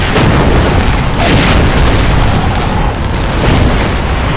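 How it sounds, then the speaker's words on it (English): An explosive grenade goes off in the multiplayer shooter Empires on the canyon map, a loud continuous rumbling blast roar that holds at full strength throughout with no talk over it. "Kill with explosive grenades."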